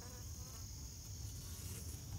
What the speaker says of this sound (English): there's a lot more bees up here than I would have thought with the cool temperatures